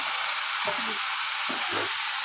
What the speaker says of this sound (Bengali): মিক্স করে দিয়েছি, এবার এটা হাই ফ্লেমে ঢাকনা দিয়ে ভাজতে দেবো।